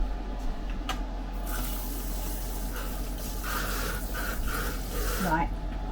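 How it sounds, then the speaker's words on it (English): Kitchen tap running steadily while hands are rinsed during roast beef preparation, a continuous close water stream with faint splashing. "Now I need to rinse my hands, bear with."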